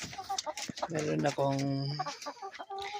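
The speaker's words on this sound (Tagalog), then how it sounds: "Yan ang rooster ko" A rooster clucks and makes short, throaty calls up close, including a couple of drawn-out tonal notes, while a person talks briefly over it.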